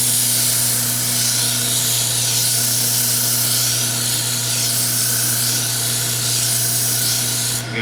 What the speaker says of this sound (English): now I'm going to finish sanding this